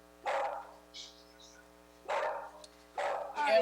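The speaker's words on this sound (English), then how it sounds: "Ron, it's really difficult to hear you with your dog barking." A dog barks in the background of a town board meeting held over a call. Three loud, separate barks are heard, with a shorter yip between the first two and a final quick double bark.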